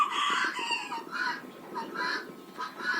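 Bantam chickens and roosters cluck and call around a farmyard shed, a busy overlapping chorus of short cackles at moderate, fairly close distance.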